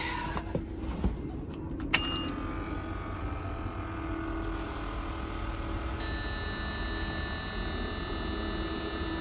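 A Caterpillar 3126B diesel engine cranks and starts after an oil pump and bearing replacement, with a few clanks and a starter whine giving way to a steady, close, continuous engine run that rises in intensity partway through.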